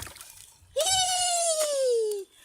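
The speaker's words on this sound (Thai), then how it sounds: "เฮ้ยนั่นมันเสียงตัวอะไรอะ กับกับกับกับกับกับ เสียงม้าใช่ไหมเอ่ย horse ม้า" A single loud, close animal call with a clear tonal pitch that starts high and slides slowly downward, heard near a clear-water stream next to a faint background of splashing and voices; a toy horse figure's sound.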